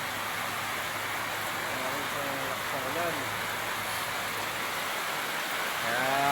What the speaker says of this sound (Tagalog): Pasok tayo sa lakas ng ulan, oh.